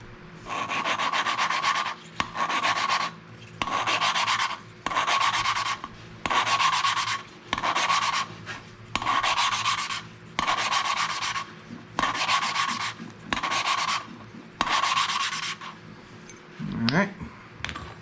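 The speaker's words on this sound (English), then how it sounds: "we're just going to do a light quick lapping to see where we're falling as far as our seal goes" Engine valve lapped by hand against its seat in a KA24DE cylinder head from a 240SX, producing a steady series of about a dozen gritty rubbing bursts with brief gaps, close and loud, followed by a short clunk.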